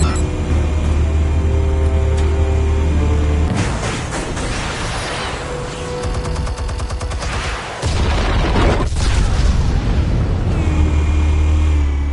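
Fired explosives going off in an action fan film, a loud roaring blast with heavy rumble and crackling debris, swelling and fading over several seconds with a second surge near the end.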